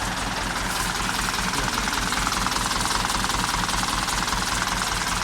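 A Ford 6600 85 hp farm tractor, wearing New Holland stickers, runs at a steady idle with a dense, continuous rattling engine drone and a rapid knocking pulse, close and unbroken throughout.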